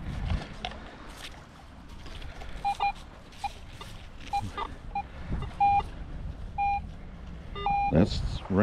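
Short electronic beeps and tones from a Garrett AT Pro metal detector chirp intermittently over beach noise, with several brief pitched signals repeating irregularly.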